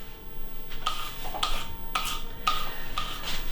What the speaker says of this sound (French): Donc ensuite, nous allons les râper dans l'adaptachef.